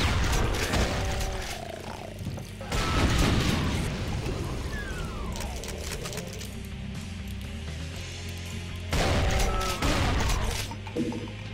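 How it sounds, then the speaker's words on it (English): Shotgun blasts in the first-person shooter game Brutal Doom, several loud booming shots with crackling mechanical reload sounds and debris between them, amid game noise. "Shotgun."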